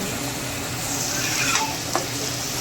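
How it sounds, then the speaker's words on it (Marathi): Spice paste frying in a little oil for a bitter gourd dish, a dense close sizzle with spatula stirring and a couple of brief scraping knocks against the pan. "2 चम्मच पेस्ट घातला। थोडं तेलात"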